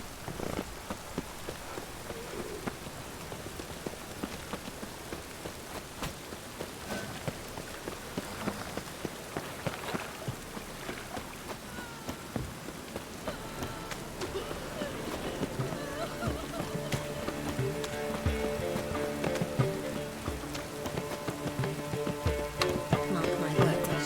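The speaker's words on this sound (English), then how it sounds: "Rain again." Steady rain falling in The Witcher 3 video game, a continuous soft patter on surfaces with scattered drops, growing slightly fuller as distant game sounds mix in underneath.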